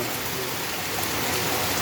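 Heavy rain pours down in Jaipur, Rajasthan, a loud, unbroken wash of rushing water and drumming drops that stays constant throughout, without voices.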